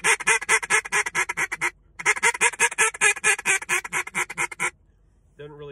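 A duck call blown in a fast, clipped backwards bouncing-hen cadence, a steady run of sharp quacking notes with a short pause partway through, loud and close, then stopping.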